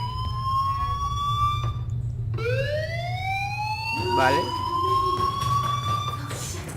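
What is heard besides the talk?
fire alarm ringing in the video game Life is Strange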